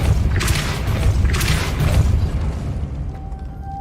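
A Depulso spell cast in Hogwarts Legacy lands as a loud, broad booming blast, with two heavy bursts in quick succession before fading to a quieter tail.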